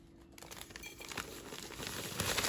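A bag of boxed cake mix, a 16.25-ounce package for a strawberry cake, is snipped open and crinkled close by, with soft rustling and crackling that grows steadily louder over a couple of seconds.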